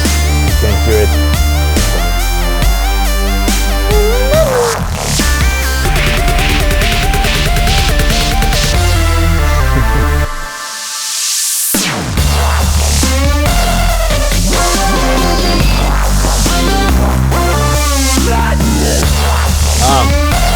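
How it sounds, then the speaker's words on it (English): An early homemade dubstep track, with heavy bass, wobbling synth patterns and a growl bass, playing loud and dense with a brief near-silent break midway before the drop returns. "I made a dubstep track, I remember. And you can hear it."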